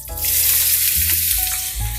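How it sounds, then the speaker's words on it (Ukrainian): Pork cracklings and onion frying together in a pan give off a loud, steady sizzle and crackle that runs close-up and unbroken for the whole stretch, with no voices. "Коли шкварки наполовину готові, додаємо цибулю і смажимо разом"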